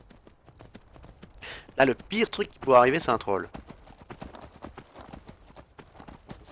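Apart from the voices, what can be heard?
horse hooves while riding in video game Skyrim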